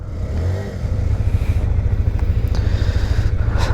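A 2021 Honda CBR motorcycle pulls away, its engine idling at close range before rising into a louder, steady throbbing rumble as it starts off.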